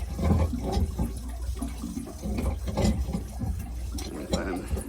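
Water splashes and runs steadily from a pipe disconnected from a water heater, a continuous broadband gush with small surges throughout.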